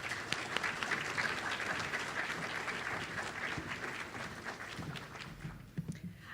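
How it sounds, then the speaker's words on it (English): Audience applause for the MEDEX Kona Pi Alpha inductees at a graduation ceremony, a steady wash of many hands clapping that carries on through the whole stretch and tapers slightly near the end. "Please join me in a round of applause as we honor the MEDEX Kona Pi Alpha inductees of"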